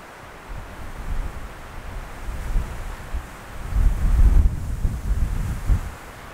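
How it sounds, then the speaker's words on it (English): Outdoor wind gusts buffet the microphone while trout fishing in fall, a low rumbling roar that swells and eases in waves, strongest in the second half, with no talking. "wind will blow that right back in my face"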